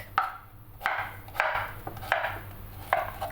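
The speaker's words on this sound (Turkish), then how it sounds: "Küp küp doğruyoruz sadece orta erilikte." A knife chops vegetables, including washed squash with the skin on, into medium cubes on a board: five crisp, distinct chops at uneven intervals, close and fairly loud, with no talking.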